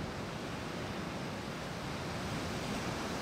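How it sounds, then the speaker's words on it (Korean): Steady, full roar of ocean surf washing onto Jeongdongjin beach in Korea, continuous and moderately distant with no voices. "횟집 옆에 파도가 정말 멋집니다"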